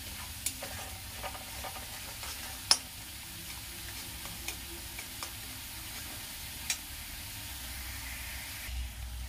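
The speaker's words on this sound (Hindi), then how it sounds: "इसको अच्छी तरह भून लूंगी। तेल किनारे किनारे दिखने लगेगा तो टमाटर का पेस्ट जो बनाई हूँ वो डाल दूंगी।" Onion masala with tomato paste frying in oil in a pan, a steady soft sizzle broken by a few faint clicks and light stirring taps, heard close with no talking.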